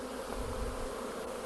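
Honeybees swarm around an open hive during autumn preparation for wintering, a dense steady buzzing hum filling the air close by without a break.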